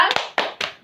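Elementary classroom of fourth graders doing a rhythmic thumb clap: three sharp percussive bursts of hand claps, each quickly decaying, spaced about a quarter second apart, close and fairly loud with no talking.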